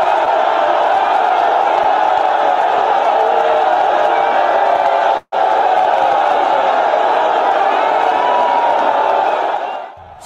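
A large crowd of supporters packs James Ibori's country home in Oghara, Delta State, to welcome him back, a loud, dense roar of voices and cheering that holds for about ten seconds, with one brief cut midway.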